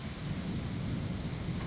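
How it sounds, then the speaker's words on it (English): A big summer thunderstorm over Milwaukee, Wisconsin rumbles as continuous low, heavy thunder that fills the whole stretch, with a faint rain hiss and no voices. "That is one big storm."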